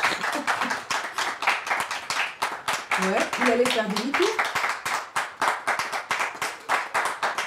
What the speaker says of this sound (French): Public, je voudrais vous demander de recevoir ici maintenant, sous vos applaudissements